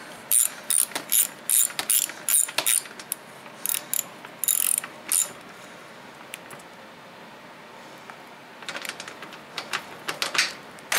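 Ratchet tightening a bolt on a Predator 8750 inverter generator during setup, with rapid clicking strokes in quick bursts, then a pause and a few more clicks near the end, close and crisp.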